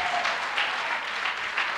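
A church congregation applauding together during a worship service, a steady, loud wash of many hands clapping close by with brief swells, sustained without pause and with no voices on top.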